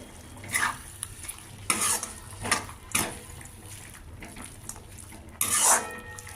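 A spoon stirs eggplant, sweet potato and tomato curry mixed with sesame chili powder in a pan, making quiet, intermittent scraping strokes against a soft sizzle, with no talking.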